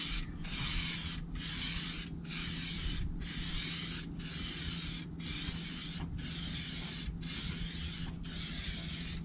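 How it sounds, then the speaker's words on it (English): An aerosol can sprays paint in a long run of roughly one-second bursts with brief gaps between them, loud and close, used to paint-match a side window blank on a Land Rover Discovery. "spray on a heavier second coat at a different angle"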